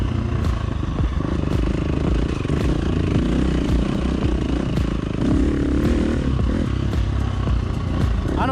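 A KTM SX motocross bike running a Tokyo Mods Vortex ECU, its engine idling and revving in a loud, continuous, rough drone with light mechanical clatter, close up and with no talking.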